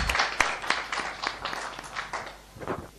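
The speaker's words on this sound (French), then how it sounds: "On applaudit pour elle." An audience at a Fo'arts manuscript prize ceremony applauds a winner with scattered, uneven clapping that fades somewhat and then swells again briefly near the end.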